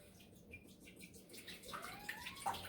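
A-Treat root beer from Pennsylvania is poured into a crock pot slow cooker, giving a faint, soft liquid trickle whose pitch rises as the pot fills, alone and close.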